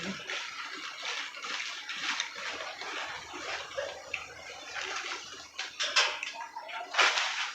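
Water boils in a pot with a steady, close, hissing churn of bubbles throughout and a few sharper splashy bursts toward the end.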